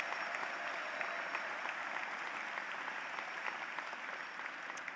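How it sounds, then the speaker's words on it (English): A commencement audience at a 2022 college ceremony applauds the graduates' parents. The clapping is a steady, even wash from a big crowd, faint and distant throughout, with no voices standing out. "Let's have a round of applause for the great moms and dads."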